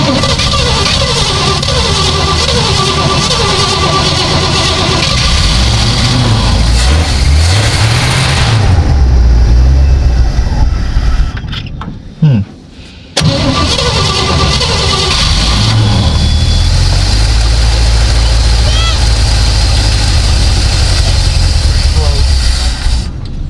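A 1956 Chevy engine runs loud and close, with a rough idle and some revving rises. It briefly cuts out near the middle and then resumes a steady rumbling idle, with a person talking over it at times.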